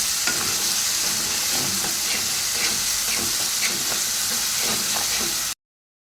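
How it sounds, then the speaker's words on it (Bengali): Spice masala with ginger-garlic paste frying and being stirred in a pan, a loud continuous sizzle with faint scraping strokes running under it before cutting off abruptly near the end. "সামান্য এই আদা রসুন বাটার জলটা একটু দিয়ে দেবো, দিয়ে একটু মশলাটা ভালো করে কষিয়ে নেব"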